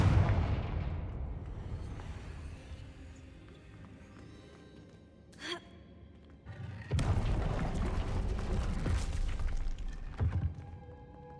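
Confringo fire spell blasting in Hogwarts Legacy, a booming explosion that decays slowly, then a sharp crack and a second loud rumbling burst that rolls on for several seconds, with no talk.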